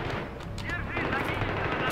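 Rapid automatic gunfire from a first-person shooter video game crackles in dense bursts over a continuous noisy mix. A voice speaks briefly over the shooting.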